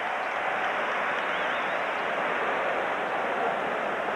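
A packed Chicago arena crowd at the 1988 NBA All-Star Game cheers and applauds in a dense, steady wash of noise that holds at an even level throughout, with no voice over it.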